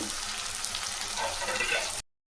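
Chillies and garlic sizzle steadily in hot oil in a pan for onion chutney, a close, bright crackling fry that runs for about two seconds, then cuts off.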